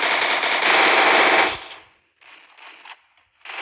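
Rapid automatic gunfire in a competitive shooter video game bursts loudly and continuously for about a second and a half, then cuts off, followed by a few quieter, shorter bursts of shots.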